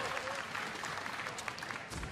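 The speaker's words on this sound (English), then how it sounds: "Little claps from the crowd as they at least fight back as far as vision wars are concerned" A League of Legends esports crowd at an LCS match gives light applause: faint, distant, scattered clapping that stays low and even throughout.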